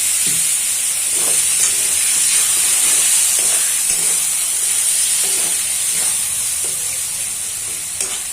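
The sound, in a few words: mushroom kosha sizzling in pan after adding mustard-poppy paste and water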